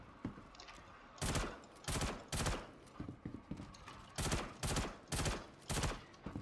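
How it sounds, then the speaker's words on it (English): Bursts of automatic gunfire in the space shooter game Star Citizen, about eight loud rapid volleys each lasting a fraction of a second, evenly spaced and close. "Not shooting all that great today."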